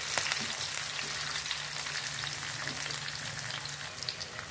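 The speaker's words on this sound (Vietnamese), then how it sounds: "mình chiên cho nó vàng đều hết các mặt luôn rồi" Tofu frying in hot oil in a pan, a steady close crackling sizzle with scattered sharp pops, continuous and alone throughout.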